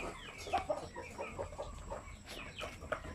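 Native chickens clucking nearby at feeding time, a steady, close chorus of soft overlapping clucks and short calls with no talking.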